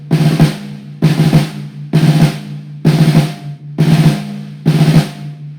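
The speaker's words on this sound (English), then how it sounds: "In the open roll, there's exactly 5 notes, or 5 strokes." A drum sounds an open five-stroke roll, repeated six times at an even pace with about a second between each loud, close burst and a ringing tone held underneath.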